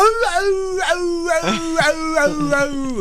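A person imitates a dog's howl in a drawn-out, wavering, high-pitched voice that rises and falls across several swoops, close up and loud.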